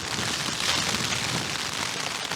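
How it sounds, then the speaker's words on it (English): Heavy rain pours steadily onto a tent at a wild camp during a stormy night with howling gales, a dense, continuous close hiss and patter with no talk. "Just one night without pouring rain, howling gales."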